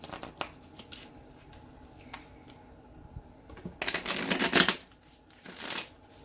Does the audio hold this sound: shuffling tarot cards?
yes